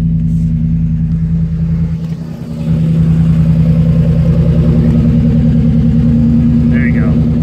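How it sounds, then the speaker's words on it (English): A 2013 Ford F-150 pickup engine idles loudly and steadily, a deep rhythmic rumble that dips briefly before settling back into its even drone. "Just wanted you to hear that engine."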